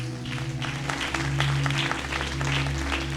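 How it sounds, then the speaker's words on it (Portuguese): Churchgoers applaud during a worship service, a brisk patter of clapping over a sustained organ or keyboard chord that hums steadily beneath it. "Pode aplaudir."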